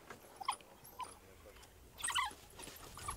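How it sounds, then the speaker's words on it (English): African wild dogs squabble over an impala carcass, giving faint high yips, whimpers and squeals in scattered bursts that grow busier partway through, with a low background rumble behind them. "Hey, wild dogs."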